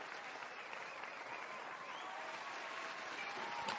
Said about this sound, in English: I'm glad I got my applause sound clip made, too.